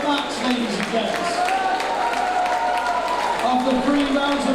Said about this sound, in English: Let's get a round of applause for Ben and for Max, ladies and gents.